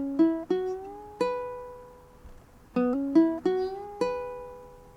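Ukulele lick from a song, played as short plucked phrases of bent notes that ring briefly. One group of three notes, a pause, then a second group of four, played quietly and alone.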